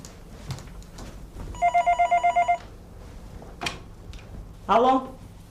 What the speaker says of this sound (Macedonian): Телефонот звони, јави се.